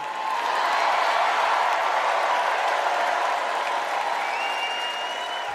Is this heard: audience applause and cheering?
yes